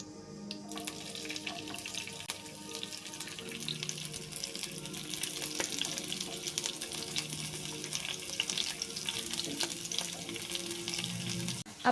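Jackfruit pieces dusted with a pinch of turmeric frying in boiling oil for chakka varuthathu, a steady dense crackle and sizzle running unbroken for the whole stretch, close and moderately loud, with no one speaking.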